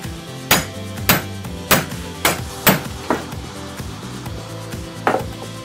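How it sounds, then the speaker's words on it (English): Sharp metallic strikes ring out as a hammer drives a center punch into a steel Bowie knife blank to mark hole locations, about seven close, evenly spaced blows each with a brief ringing tail. "now I'm just gonna punch all the places where the holes are"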